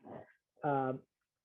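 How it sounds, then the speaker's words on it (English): Dog on a couch lets out a brief whiny, rumbling growl-like vocalization with strong tonal harmonics, preceded by a short breathy snuffle, close and fairly loud against silence. "I'm gonna kick this dog off the couch."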